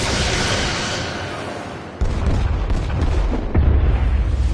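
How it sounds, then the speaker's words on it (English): Starship torpedoes launching and detonating in the space battle game Star Trek Resurgence, a sustained rushing blast followed by a heavy booming impact and a second deep thump, loud and rumbling. "Firing torpedoes."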